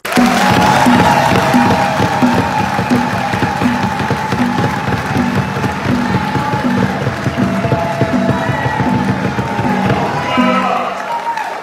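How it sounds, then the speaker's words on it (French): A large crowd at a political rally in Belgium applauds and cheers, with loud sustained clapping, shouts and rhythmic chanting mixed with a voice over the din. "je voudrais que vous applaudissiez"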